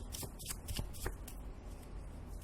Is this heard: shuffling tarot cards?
yes